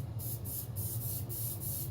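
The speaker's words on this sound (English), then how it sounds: "take some of the spray glue, point it in a safe direction" An aerosol can of spray glue hisses steadily onto wood for a knife sheath, loud and close, with a faint pulsing as the nozzle sweeps back and forth.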